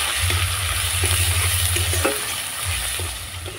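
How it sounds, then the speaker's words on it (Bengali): Spice paste with red chilli and coriander powder fries and gets stirred in a pan for a potato curry. The close sizzle comes with scraping stirs over a low, steady hum, and no voices are heard. "এবার আমি ভালো করে মশলাটা কষিয়ে নেব।"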